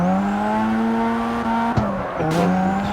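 A car drifting in the CarX Street racing game: a steady, loud engine drone runs throughout, with tire squeal and skidding noise joining in, and a brief dip and sharp transient near the middle.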